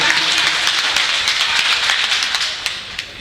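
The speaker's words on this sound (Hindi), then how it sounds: "एक बार इनकी फरमाइश के लिए तालियां बजा दीजिए आप" A mushaira audience in Dewas applauds with dense, steady clapping that carries on throughout, thinning slightly near the end.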